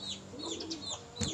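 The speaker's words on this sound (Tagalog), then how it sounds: "Ito na nga yung ibon, ano, mga kalapatids." Pigeons give soft, close coos and low murmurs from a captured flock, with a brief louder flutter near the end.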